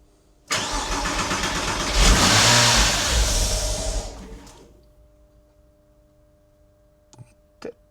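A Porsche car engine cranks and roars to life, revving loudly for a few seconds before dropping off, followed by two faint clicks.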